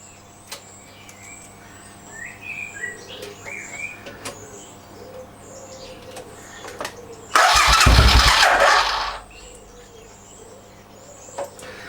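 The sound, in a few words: Suzuki Intruder VS700 motorcycle engine being started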